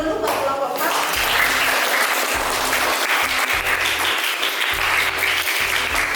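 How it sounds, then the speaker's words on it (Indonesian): A classroom of students claps for a presenting group in a science lesson, loud dense applause sustained throughout, with a voice speaking over it at the start. "Kasih aplaus dulu buat kelompok 4."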